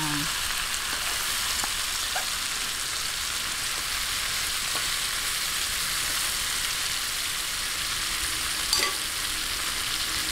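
Pork hock frying in a pan for Filipino humba, a steady broadband sizzle with fine crackling pops running throughout, close and fairly loud, with no talking.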